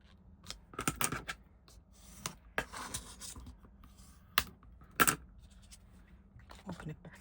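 Tea bag folding paper being creased and folded by hand, a series of short crisp rustles and sharp crackles in irregular bursts, close and quiet between handlings.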